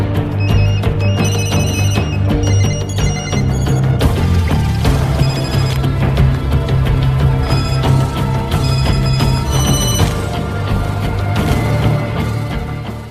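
Telephones ring insistently throughout a film scene, with bright repeated electronic trills in bursts over a loud, busy background of music and rumble, many lines sounding one after another with no talk.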